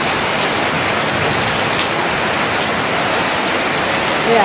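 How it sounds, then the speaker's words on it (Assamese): Steady rain falls over a village, a dense, even hiss of drops on surfaces that holds constant throughout, close and fairly loud with no voices. "চাবচোন বৰষুণখিনি আপোনালোকে মই দেখাই আছোঁ"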